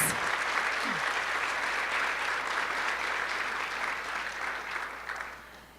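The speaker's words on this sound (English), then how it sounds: "Give them a round of applause because they're pioneers." Steady, moderately distant round of applause from an audience at a Chicago fair trade town gathering, even clapping sustained for several seconds and gently tapering off toward the end.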